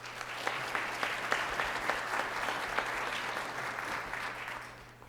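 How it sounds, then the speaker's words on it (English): An audience claps together at a schools summit welcome event, a dense, even burst of applause lasting a few seconds before tapering off at the end. "let's give them a round of applause"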